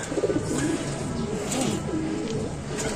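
Racing pigeons coo repeatedly at close range, the soft throaty calls overlapping in a steady, busy stream around a loft.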